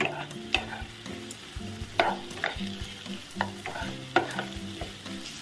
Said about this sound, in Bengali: এবার ঢাকনাটা খুলে এটাকে আমি আর একটু ভাজবো, গ্যাসটাকে একটু বাড়িয়ে দিয়ে